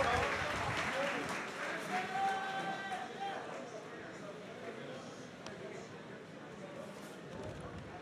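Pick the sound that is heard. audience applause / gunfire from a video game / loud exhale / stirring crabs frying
audience applause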